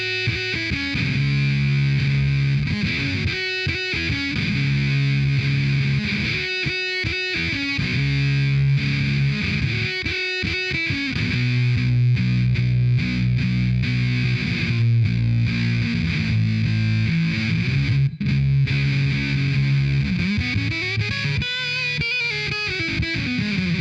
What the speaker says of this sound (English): what this sounds like with some humbuckers